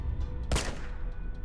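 A single sharp gunshot in the action game Uncharted 2, one loud crack standing out briefly from a low rumbling background.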